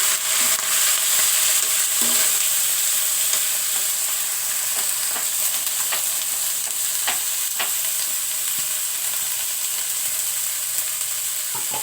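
Pre-boiled cauliflower greens fry in a hot pan, a loud, continuous close sizzle with intermittent scraping and clinking as a spatula stirs them; no talking.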